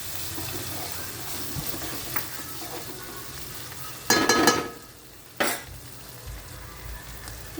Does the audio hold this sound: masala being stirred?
yes